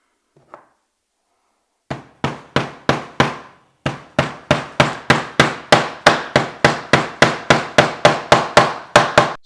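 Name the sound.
hammering wooden snowman base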